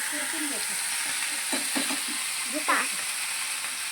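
Vegetables fry in a pan with a steady, close sizzle while a spoon stirs them, adding soft scraping and bubbling over the constant hiss.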